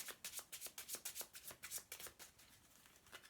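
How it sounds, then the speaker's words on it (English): A deck of oracle cards is riffled and shuffled in a quick run of crisp, rhythmic flutters, close and soft, slowing and thinning toward the end with no voice over it. "One more shuffle."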